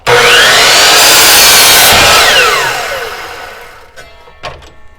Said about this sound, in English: we're going to go ahead and cut this on the miter saw